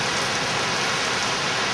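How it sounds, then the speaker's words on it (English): Hail falls hard during a severe storm in Sydney, a loud, dense and unbroken hiss of pelting ice that fills the whole stretch with no pauses. "Now, here we see a storm. Come on. Hail."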